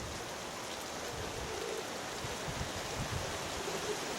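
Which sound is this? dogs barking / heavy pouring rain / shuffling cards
heavy pouring rain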